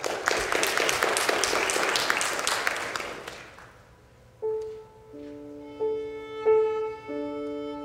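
Dense applause from a concert audience fills the first few seconds, then fades out as a few soft sustained piano notes begin.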